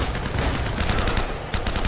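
Rapid gunfire in Uncharted: Drake's Fortune, a dense burst of repeated shots running continuously and loudly for two seconds with no talk over it.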